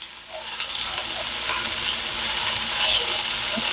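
Whole peppercorns and bay leaves fry in very hot oil with a steady, loud crackling sizzle, heard close up and building slightly in intensity, with no voices.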